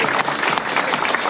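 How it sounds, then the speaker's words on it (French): Crowd applause near a house along the course of a trail running race in the Guillestrois and Queyras, loud dense clapping with a few sharper claps standing out. "Applaudissez Joseph qui vous accueille là devant sa maison."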